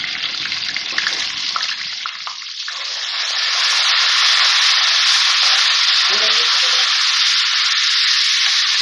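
Garlic ginger paste hits hot oil with whole spices and bursts into a loud, steady sizzle close by. It starts after a few seconds of quieter frying and then stays dense and hissing throughout.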